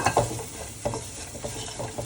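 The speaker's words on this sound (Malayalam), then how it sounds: "എന്നിട്ട് ഒന്നുകൂടെ നമുക്ക് നല്ലപോലെ ഇളക്കി കൊടുക്കാം" Duck curry masala with coconut pieces frying in a pan and stirred, with a few sharp scraping strokes over a soft, steady sizzle.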